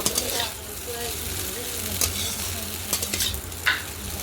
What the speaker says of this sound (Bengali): চাউমিনটাকে একটু সুন্দর করে ভেজে নেব